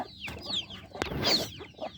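Chicken chicks, including a reddish one, peep in a brood of fourteen kept at a home coop, their high thin calls chirping repeatedly and close with a few clucks from a hen mixed in.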